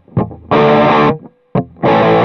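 Distorted electric guitar through the JG120 amp model on a NUX Cerberus multi-effects unit: a short picked note, then a loud sustained chord ringing about half a second, a brief pick attack, and another chord held to the end.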